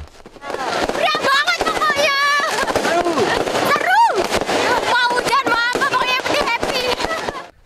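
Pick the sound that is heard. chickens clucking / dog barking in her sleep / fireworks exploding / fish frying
fireworks exploding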